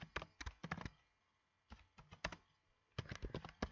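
Bursts of typing on a computer keyboard while writing code, clusters of quick close key clicks separated by short pauses, crisp and moderately quiet with no talking.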